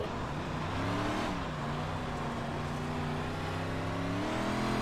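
A Big Block Modified race car at Cedar Lake Speedway in iRacing roars with a steady engine drone and tire hum, pitch shifting as it drops low on the track, continuous and close.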